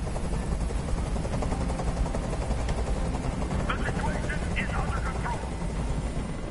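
Helicopter in the video game Detroit: Become Human: a loud, steady rotor drone runs throughout, with brief sharper bursts and faint voices in the mix.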